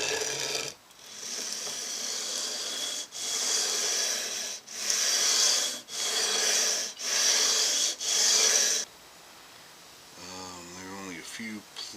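Rough-grit sandpaper rubbed lightly along a custom guitar neck during fretting, six steady rasping back-and-forth strokes close by, each about a second long with brief pauses, then the scraping stops and a voice speaks briefly.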